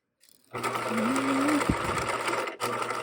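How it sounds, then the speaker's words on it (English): Sewing machine basting the top of a pants pocket seam about half an inch in, a close steady motorized whir and needle clatter starting abruptly and running continuously, with a momentary break near the end. "machine baste the pocket top in at about a 1/2 inch"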